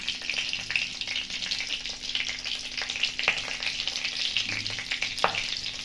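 Green chilli, bay leaf and cracked cardamom pods sizzle in hot oil in a wok, a close, steady crackle with sharp pops and spits scattered through.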